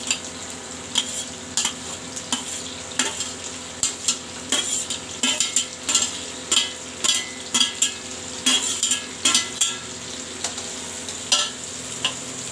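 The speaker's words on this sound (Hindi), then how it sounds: "और प्याज को पीले होने तक पकाएंगे." Onions frying in a pan for tomato chutney, with a steady sizzle under repeated stirring and scraping sounds in a loose rhythm, close and moderately loud, with no talking.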